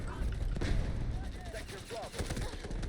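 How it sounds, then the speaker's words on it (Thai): Explosions and gunfire in the Delta Force shooter game, a dense, continuous barrage of booms and shots through the whole stretch with a Thai-speaking player reacting over it. "อุ้ยระเบิดระเบิด ระเบิดเยอะระเบิดเยอะ"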